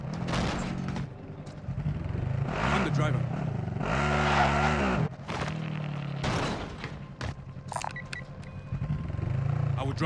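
Car driven in a military shooter video game, engine revving loudly and steadily with skidding and tire squeal, close and continuous, while voices and radio chatter talk over it and sharp bursts cut in near the end.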